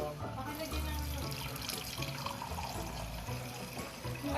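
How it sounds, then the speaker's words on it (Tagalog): Water runs and splashes steadily into a cup during a home family meal, a continuous close, moderately loud pour with some faint background noise. "lagyan mo na ang tubig yung tasa mo"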